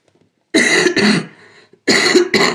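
Two bursts of harsh coughing close to the mic, each a pair of quick coughs, separated by a short quiet gap.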